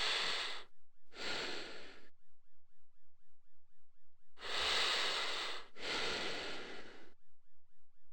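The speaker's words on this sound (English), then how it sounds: "the indicator for whether or not you're in a concealed stealth area is CJ's breathing being" Amplified, looped heavy breathing from the character CJ in GTA San Andreas signals a stealth area, as two pairs of loud, close inhale-exhale bursts over a faint pulsing game tone.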